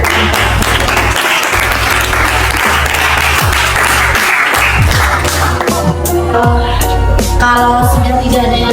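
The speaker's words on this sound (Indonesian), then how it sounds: "Temannya beri aplaus untuk" A classroom of students applauds a classmate with loud, steady clapping that carries on for several seconds, with a rhythmic, more unified beat toward the end.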